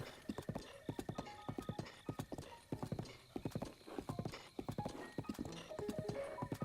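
Horse hooves clip-clopping at a gallop in the video game Breath of the Wild, a fast regular beat of close, crisp hoof strikes with faint whinnying and no talk.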